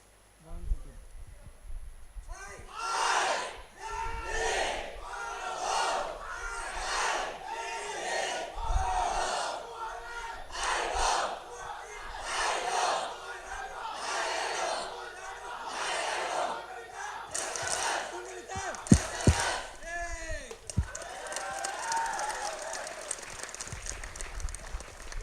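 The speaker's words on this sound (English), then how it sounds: "Vivek, thank you so much for leading us into the cheer" A crowd gathered at a store launch in Chennai chants a cheer in rhythmic, repeated bursts of shouting, a steady call-and-response beat of voices that builds over about twenty seconds before fading into scattered noise.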